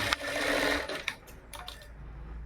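Sewing machine stitching together blouse lining pieces, a steady close whirring run of about a second followed by brief start-stop bursts as the fabric is repositioned, with no talking.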